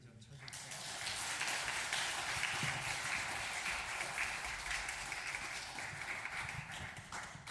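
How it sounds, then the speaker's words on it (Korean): A church congregation applauds at a worship service, a steady, fairly faint wash of many hands clapping that rises quickly and holds evenly to the end. "사랑의 박수를 좀 쳐주세요."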